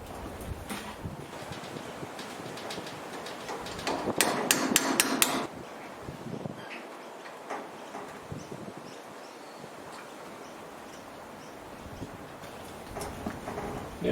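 A hammer strikes a punch against a light trailer's wheel bearing cap in a quick run of about five sharp metallic blows outdoors, with scattered softer knocks and light wind noise around them.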